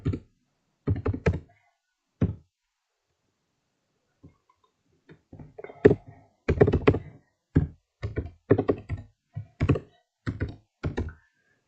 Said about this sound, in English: type this in